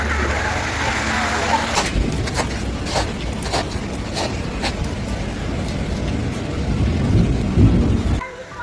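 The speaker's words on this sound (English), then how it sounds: "Heavy hail caused chaos in the city centre of Castlemaine." Heavy hail storm with thunder in Castlemaine, Victoria: a dense, constant clatter of hail striking streets and roofs, with sharp scattered impacts and low rumble, swelling near the end before cutting off.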